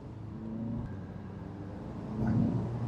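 A 2016 third-generation Audi TT Roadster engine hums steadily at a low pitch, swelling into a slightly louder rev near the end, close and unaccompanied by talk.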